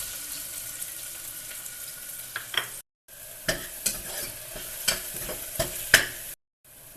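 Onion fries in hot oil in a pan, a steady close sizzle broken by regular scraping stirs, with brief silent gaps and no talk.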